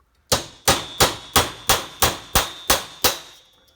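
Nine evenly spaced hammer blows ring out close and loud, each a sharp metallic strike, as the rivets are driven out of a Stihl chainsaw bar's sprocket nose.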